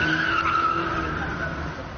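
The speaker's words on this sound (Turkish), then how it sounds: "bir grup asker eğlencesinde araçlarıyla drift yaptı" Car tires skidding and squealing during drifting by a group of soldiers' cars on a street in Sultanbeyli, Istanbul: a sustained, loud, whining screech with a wavering pitch over engine roar.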